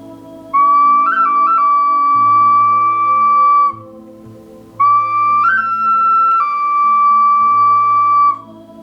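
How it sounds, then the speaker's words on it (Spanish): Two long, steady whistle blasts, each held for a few seconds with a brief pitch bend near the start, separated by a short pause, with a low rumble underneath. "voy a sonar este bonito silbato para purificar el espacio"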